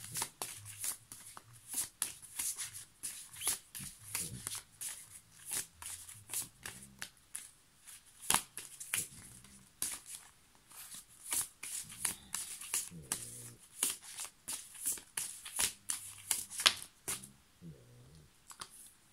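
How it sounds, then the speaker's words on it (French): Tarot cards shuffled and drawn in uneven bursts of sharp, close flicks and slaps, with a soft voice murmuring faintly underneath at times. "je vais tirer les autres cartes"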